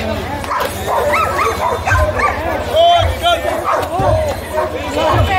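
Dogs at an outdoor dog market give repeated barks, yips and whimpers close by, with people talking loudly over and between them.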